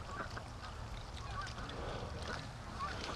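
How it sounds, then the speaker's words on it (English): Canada geese honk in scattered calls as they fly in over a farm pen, heard at a moderate distance against a steady outdoor background hum. "Oh, Canada geese flying in."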